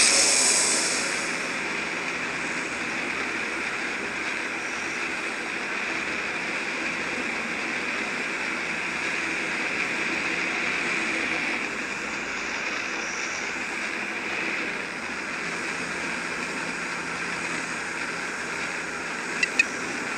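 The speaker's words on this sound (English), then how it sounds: "Starting warp engine." A spaceship's warp engine starts in the Second Galaxy space game, a sustained broadband roar and whoosh like a jet engine, steady and loud for about twenty seconds, with no voices.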